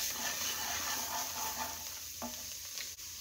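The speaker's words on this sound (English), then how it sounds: "Give this a stir." Creole seasoning being stirred into vegetarian dirty rice in a hot pan, a steady close scraping and sizzling that runs unbroken throughout, with no voices over it.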